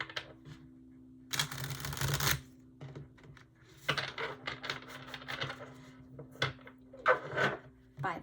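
Tarot cards being shuffled by hand: a dense, papery riffle of about a second, then softer scattered taps and rubs as the deck is handled and set down, close and fairly quiet.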